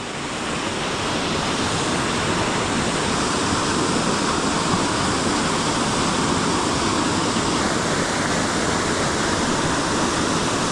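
A waterfall rushes during a flash flood, a dense, unbroken roar of falling water, loud and close, holding steady with no voices.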